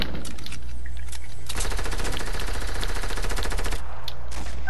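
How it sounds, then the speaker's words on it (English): Fortnite gunfire in a squad match: a long, loud, rapid automatic burst of evenly spaced shots, with scattered single shots before and after it. "Alex, what are you shooting at?"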